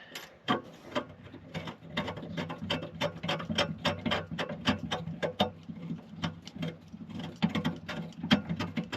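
A threaded stud wound into a bracket by hand on a MK6 Fiesta ST150 during battery and ECU relocation, giving rapid irregular metallic clicks and ratcheting ticks over a low hum, close and continuous.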